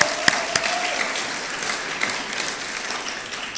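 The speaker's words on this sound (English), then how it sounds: "Let's clap for them." At a graduation ceremony, an audience claps for the graduating class of 2022, a soft, steady patter of hands with a few sharper nearby claps standing out early on.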